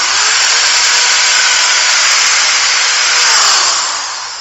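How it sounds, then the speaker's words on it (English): A power drill whines loudly and steadily for several seconds, its pitch dipping slightly as it bores into a modern BMW engine to fit a dipstick, then winds down. "we're basically going to go right into this hole and drill straight into the engine"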